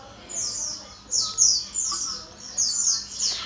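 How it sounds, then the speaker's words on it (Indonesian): Birds outdoors give repeated high, squawky chirps in quick bursts, fairly loud and close, over a low background murmur. "Kalau di luar tuh banyak burung. Berisik banget."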